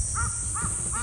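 A crow on a golf course gives three evenly spaced caws, clear and moderately close, over a steady high-pitched background hiss.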